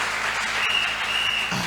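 A congregation applauding during a French-language church service, with dense, loud clapping from many hands filling the space steadily throughout.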